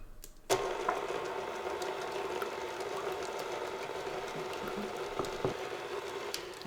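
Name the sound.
electric mixer beating chocolate cupcake batter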